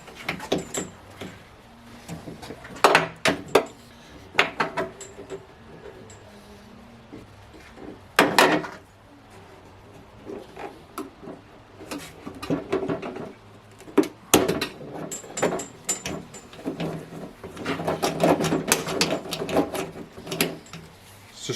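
A Mercedes W108 front door trim being pried up off its clips: a close, irregular series of sharp plastic clicks and snaps mixed with handling rustle, with no talking.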